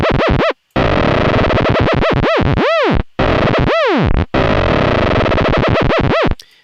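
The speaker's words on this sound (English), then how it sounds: "it's kind of like a laser gun" Ableton Operator FM synth playing laser-gun zaps: a rapid run of sharp, sweeping pitch-drop blips, loud and distorted, with two longer swooping tones in the middle and brief gaps, no voices.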